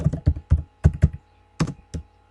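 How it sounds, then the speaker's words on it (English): Keys clatter on a computer keyboard in quick, uneven clusters of close, crisp taps with short pauses, and no one speaks. "let's type in Jennifer Garcia and type in enter, type in her address"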